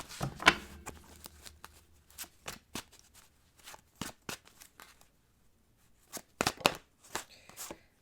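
Tarot cards shuffled by hand, a series of close, crisp riffling and flicking bursts with short pauses in between, quiet overall.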